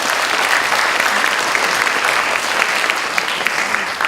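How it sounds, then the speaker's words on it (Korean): Sustained audience applause fills a hall at a university worship service celebrating Coming of Age Day, a dense, steady clapping from a large crowd that carries evenly for several seconds without speech. "오늘 성년의 날, 우리 성년이 되신 우리 여러분들 다시 한번 우리 축하의 박수를 부탁드립니다"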